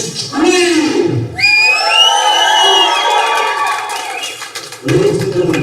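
Large arena crowd at a wrestling event screams and cheers loudly and continuously, a sustained roar of many voices with high shrieks, swelling after a brief announcer's call and holding for several seconds.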